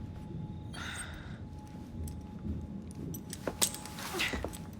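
Keys jangle briefly as they are handed over in Assassin's Creed Syndicate, a light metallic rattle rising over a low ambient hum, with a couple of sharper clinks near the end.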